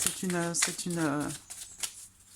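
Petit Lenormand cards are shuffled and drawn, a soft papery riffle heard under a voice talking through most of the moment.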